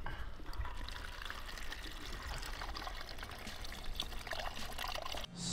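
Water pours steadily from the spigot of a rain collector tank along the Arizona Trail, a continuous close trickling stream that runs unbroken before cutting off abruptly near the end.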